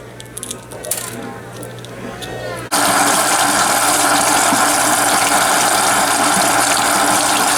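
Steady rush of running water from a kitchen tap while peeling eggs starts abruptly and continues loudly, after a few quieter seconds of kitchen noise.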